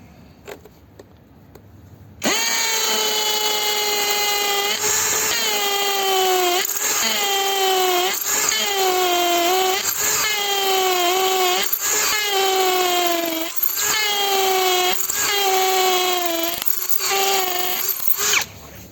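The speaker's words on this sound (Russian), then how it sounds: "Режим сверления с ударом. Ну что, пробуем. Сверло 8 миллиметров." A DRIVAK ED002 cordless drill with an 8 mm bit runs loud and close in hammer mode, its steady whine rising and dipping in repeated surges as it bites into the material.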